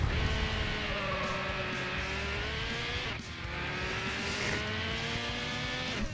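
A car's engine in the racing game Need for Speed: Hot Pursuit 2 whines loudly and steadily at high revs, dips briefly as it shifts gear midway, then climbs again, with a hint of tire noise.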